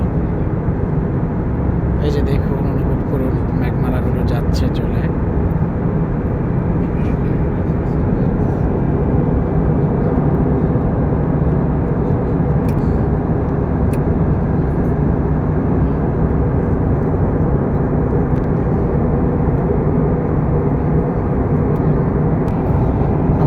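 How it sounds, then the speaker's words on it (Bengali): Passenger airplane cabin noise during descent over Sri Lanka: a loud, continuous low engine roar and airflow rumble that stays steady throughout, with faint brief clicks. "আমাদের বিমান আস্তে আস্তে নিচে নামতেছে"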